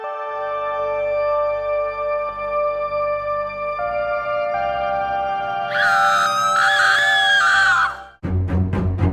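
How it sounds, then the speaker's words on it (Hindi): A cartoon character lets out a loud, sustained high-pitched scream over background music, wavering for about two seconds in an animated Hindi fairy tale about a princess and a demon, then cut off by a sharp rhythmic music hit. "अरे ये किसके चिल्लाने की आवाज है?"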